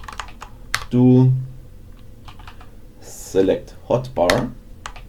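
A computer keyboard clicks in scattered, quick keystrokes close to the microphone, interrupted by someone speaking in short phrases between bursts of typing.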